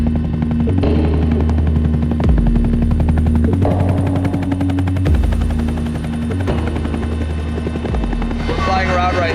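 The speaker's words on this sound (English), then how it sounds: "flying around right now in the Pemex helicopter" A Pemex helicopter flying overhead, its rotor producing a loud, steady, rapid chopping that continues throughout, with faint voices underneath.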